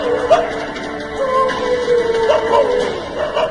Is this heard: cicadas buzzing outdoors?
no